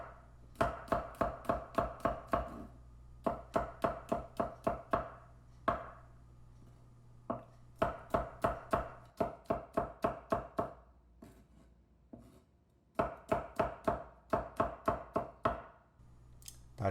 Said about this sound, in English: And proceed to cut it into little slices.